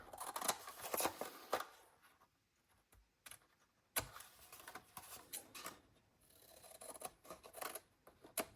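Scissors snip through paper while trimming the outer flap of a rounded pumpkin box, a few crisp cuts in short bursts separated by quiet pauses and light paper handling.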